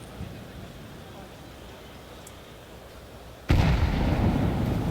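HE grenades explode during a professional Counter-Strike match at IEM Katowice 2025: a sudden loud broadband blast erupts and roars on under a low ambient rumble, with commentators talking over it.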